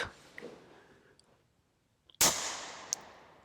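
A single loud gunshot from a custom Sig Sauer pistol chambered in 22 TCM rings out sharply, with a small metallic clink after it as the spent case is ejected, following a few quiet clicks.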